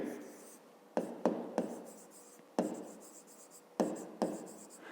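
Numbers handwritten with a pen on paper during a fifth-grade maths exercise, several sharp scratchy strokes at irregular intervals, close and fairly quiet.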